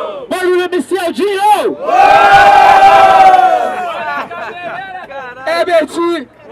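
A crowd roars and shouts at a freestyle rap battle in São Gonçalo, with a loud sustained cheer swelling in the middle between stretches of close, excited voices.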